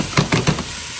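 Onions and garlic fry in oil on medium heat with a steady close sizzle, while a few soft bursts of stirring come as the pieces are pushed around the pan.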